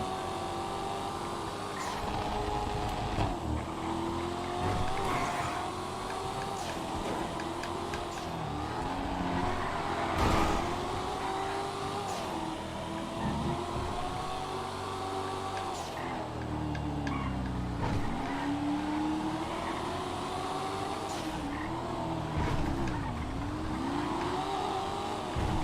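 A race car roars around a track in GTA 5, engine note rising and falling through gear shifts with occasional tire squeal, loud and continuous with no voices.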